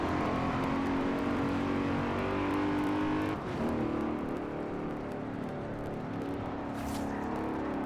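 A high-horsepower car in the Forza Horizon racing game roars at steady revs, the engine note holding loud and continuous, dipping briefly midway before building again with no talk over it.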